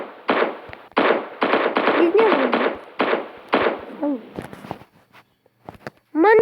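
Video game gunfire crackles in rapid bursts of automatic shots, several volleys close and loud with short gaps between them, while a voice exclaims over the action and near-silent pauses sit between the volleys.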